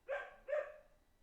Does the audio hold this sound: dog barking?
yes